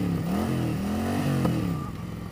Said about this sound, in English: A little backfire, a little pop.